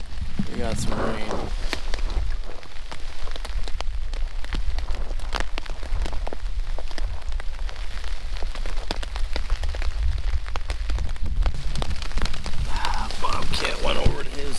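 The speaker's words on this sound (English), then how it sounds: "we got some rain." Rain falls steadily at a campsite on a canoe trip to Stillwater Reservoir, New York, a continuous dense patter of drops on surfaces, close and even throughout with no talking.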